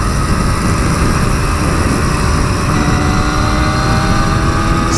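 A Kawasaki 350 Four two-stroke motorcycle engine buzzes steadily under wind rush while being ridden, a loud, continuous high-pitched drone that holds at a constant pace throughout.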